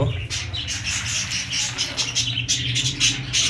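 Birds at an animal reserve chirping and calling continuously, close and fairly loud, with a steady low rumble underneath and no talk.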